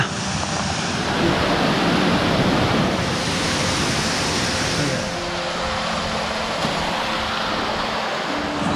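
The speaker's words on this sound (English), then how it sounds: "you're treated to that waterfall right there" Steady, broadband rushing water roars throughout, loud and continuous from a nearby waterfall in the Swiss Alps near Lauterbrunnen, with a few faint tonal hums underneath.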